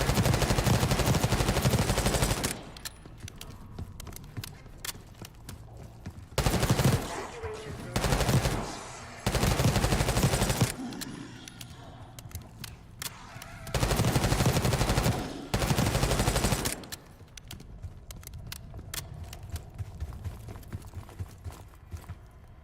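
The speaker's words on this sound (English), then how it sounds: "You hearing gunfire? Yeah. Sounds like one of the lower floors." Bursts of rapid gunfire in Call of Duty: Black Ops 6 erupt repeatedly, loud and clipped, with quieter stretches of ambient noise and clatter between them.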